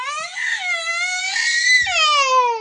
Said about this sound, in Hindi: इन जोर से चिल्ला चिल्ला के रो रही है।